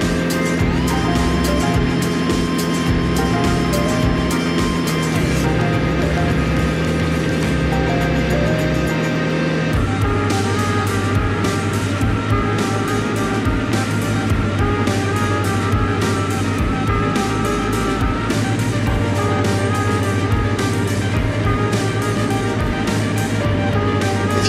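A Morane Saulnier Socata Rallye light aircraft drones steadily and loudly close by as it comes in to land at Granada. The engine note drops to a lower, rougher hum about halfway through, and no one speaks.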